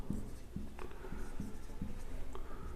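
The words "how far" are written on a board in a series of quick, rhythmic tapping and scratching strokes, close and fairly quiet with a faint room hum underneath.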